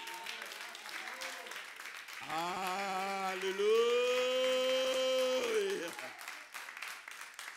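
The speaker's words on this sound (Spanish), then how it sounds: "¿Cuánto le da un aplauso a Dios?" Congregation applauding during a church service, clapping running throughout at moderate level while a voice calls out a long sustained exclamation in the middle.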